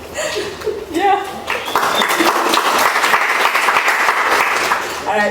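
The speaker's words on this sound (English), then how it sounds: "Let's give a applause for that." Conference audience applause at a tech keynote, a dense sustained wash of clapping rising after a second and holding steady, with a little chuckling and voices mixed in near the start.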